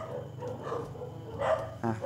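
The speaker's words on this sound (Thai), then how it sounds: "อเสียงหมาก็เห่าอีกแล้ว" Dog barking in the distance, a few faint muffled barks while someone talks over them.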